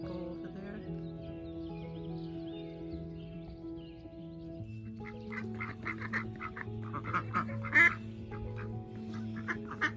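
Ducks belonging to a neighbour quack in a backyard garden, a run of short bursts growing busier and louder in the second half over a steady low hum, with no one talking.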